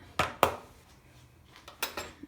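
A spoon stirs bread dough ingredients (milk, salt, oil) in a bowl for stuffed pan bread, making a few sharp, close clinks against the bowl with softer scraping between them.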